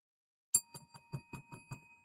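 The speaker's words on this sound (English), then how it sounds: "ringing the bell" A small bell dings about seven times in a quick, even run to mark a birthday celebration, close and clear against silence.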